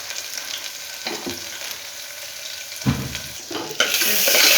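Onions frying in a pan of hot oil give a steady close sizzle, broken by a few louder stirring scrapes and bursts toward the end, with no voices.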